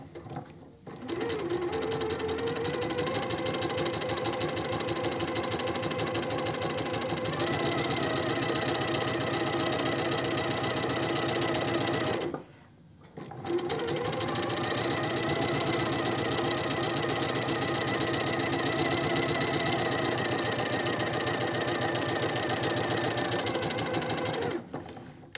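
Sewing machine running a stabilizing stitch line along a silk blouse, a loud close steady whir with rapid needle rhythm, broken by one short stop midway before resuming at the same pace.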